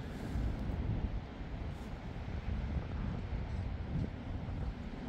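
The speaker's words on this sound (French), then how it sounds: "J'entends le vent qui circule juste en dessous." Storm Herminia's wind gusts roar in a broad, constant rumble, loud and close, with buffeting against the microphone and no talking.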